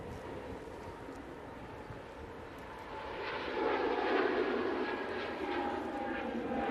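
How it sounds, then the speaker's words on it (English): An SAS airliner begins its takeoff roll bound for Copenhagen, a distant jet roar that swells gradually and holds at a steady level. "SAS on the roll. That's off to Copenhagen."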